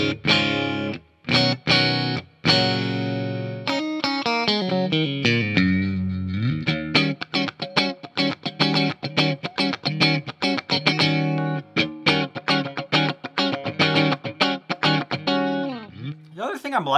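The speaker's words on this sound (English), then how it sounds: "if you flip that up here, you can get all three pickups on at the same time" A 2021 PRS Fiore Mark Lettieri Signature electric guitar with all three pickups on, playing a bright run of chords and quick single-note riffs through chorus-like effects, loud and close.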